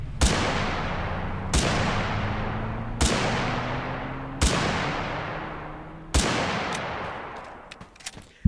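Gunfire in the battle-royale video game Totally Accurate Battlegrounds: five loud, sharp shots spaced over several seconds, each ringing out with a long decaying tail over a low droning engine hum, with smaller clicks near the end.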